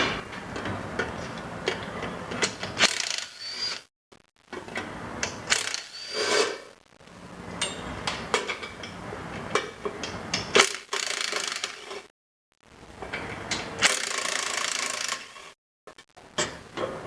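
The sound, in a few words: socket wrench removing cover bolts on Graco pump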